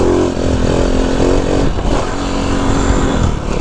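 A Honda Cub C90 with a 140cc engine is ridden in a wheelie, its engine droning loud and close with a steady buzzing note and a brief dip in the middle.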